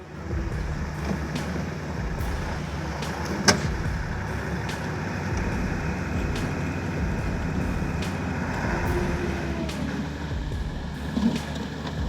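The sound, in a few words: Ural truck driving through an ice-cold river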